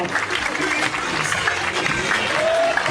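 An amusement park crowd applauds divers after a synchronized dive show, steady clapping from a large outdoor audience with faint voices and a brief tonal call mixed in.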